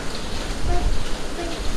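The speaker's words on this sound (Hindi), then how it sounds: "जलगांव में कंटिन्यू सुबह से बारिश चल रही है" Steady rain falling continuously in Jalgaon, a dense even wash of drops close by, with a faint murmur of talk underneath.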